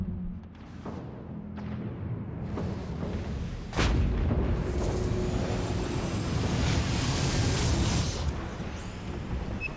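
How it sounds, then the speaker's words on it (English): Artillery support fire in the Dreadnought space combat video game: heavy booming shots and blasts layered over a continuous rumbling roar, loud and dense through most of the stretch, with no voices. "Need support fire at these coordinates"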